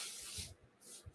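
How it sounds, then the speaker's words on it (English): Cooking oil spray hissing onto a waffle iron in two short, close bursts, the second one briefer. "I am going to use a little bit of cooking oil spray"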